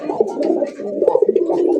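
A pigeon at a farm selling local desi pigeons coos loudly and up close, a continuous throaty warble with rhythmic pulses, with almost no other sound.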